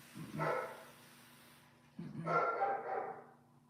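A dog indoors gives two short barks about a second and a half apart, moderately near, with quiet room tone between and no talking.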